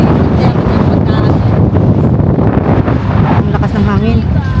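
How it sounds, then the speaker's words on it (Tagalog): Strong wind roars and buffets the microphone continuously at a beach, a loud low rumble with some faint voices and water sounds mixed in. "Ang lakas ng hangin"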